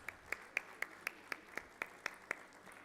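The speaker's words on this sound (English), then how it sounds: "Round of applause." Slow, evenly spaced single claps at a national mining ministers' conference, about ten sharp distinct hits at a steady rhythm, faint and somewhat distant, with no talking over them.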